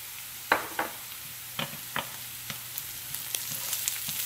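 Minced lemongrass sizzles quietly in hot oil while cooking bún bò Huế, with a few sharp scraping taps from stirring.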